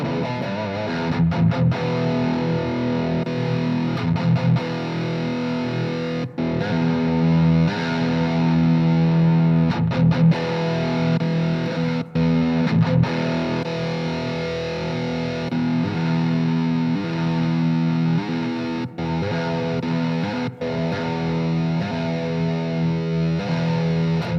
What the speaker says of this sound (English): This is our digital spring reverb emulation.